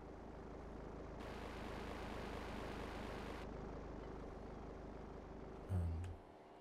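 An airplane in the video game GTA Vice City revs for takeoff, a steady, loud engine roar that swells for a few seconds and ends with a low thump.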